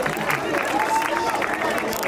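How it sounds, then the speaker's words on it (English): A crowd cheers at sunset in a Madrid park in Spain, a dense, moderately loud swell of many voices and scattered clapping that carries on throughout. "Everyone's cheering."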